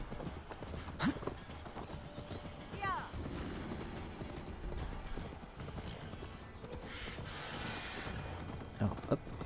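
Horse hooves clip-clop and gallop in the Assassin's Creed Valhalla video game, a fairly faint rhythmic patter with a whinny, mixed with game effects and someone speaking.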